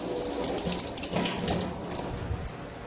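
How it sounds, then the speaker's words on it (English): Running water from a sink faucet splashes steadily as an item is rinsed off under the tap in a kitchen during BBQ sauce making, a continuous close hiss with no talk. "let me rinse this off real quick."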